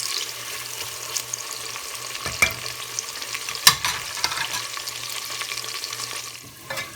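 Onions frying in oil for masala chops give a steady, close sizzle with a low hum beneath and a few sharper stirring knocks, without any talking.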